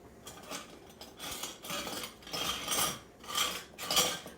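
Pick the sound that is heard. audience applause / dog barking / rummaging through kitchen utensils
rummaging through kitchen utensils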